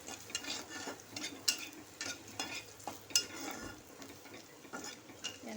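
Potatoes frying in a pan for an aloo bhorta dish, with a steady crackling sizzle broken by scattered stirring scrapes and light clinks of a utensil against the pan, close by and moderately quiet, with no talk.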